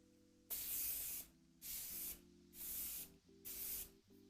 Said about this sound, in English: now I'm going to set my face with the Morphe setting spray